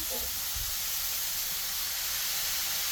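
Sliced bitter gourd (ampalaya) dropped into a hot pan, a bright continuous sizzle and hiss rising at once and holding steady, with a soft clatter at the start.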